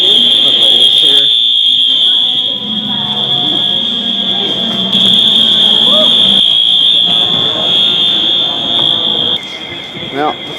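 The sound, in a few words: Wheelock fire alarm sounding at a train station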